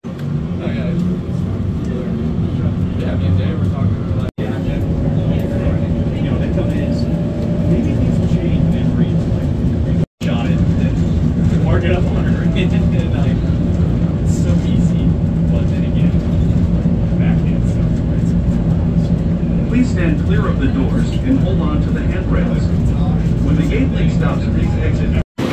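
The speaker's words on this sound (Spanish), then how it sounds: "Ahora vamos a tomar estos trenes automáticos que te llevan entre terminal y terminal." An automated shuttle train carrying passengers between terminals at Orlando International Airport (MCO) rumbles along steadily, with a loud continuous low roar and faint mechanical whine throughout, briefly cut by a few abrupt dropouts.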